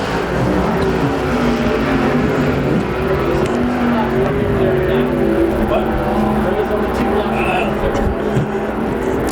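IMCA stock cars race around a speedway track in the closing laps of a main event, a loud, steady roar of engines droning continuously and mixed with wavering engine tones, with commentary talk over the top.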